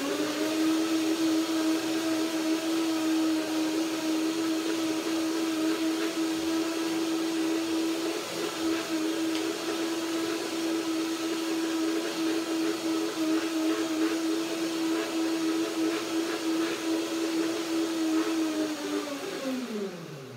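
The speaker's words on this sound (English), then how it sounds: "First, I usually break the nuts down in the blender." A blender whirs steadily at high speed for a long stretch while breaking down nuts, a constant motor drone with grinding texture, then winds down at the end.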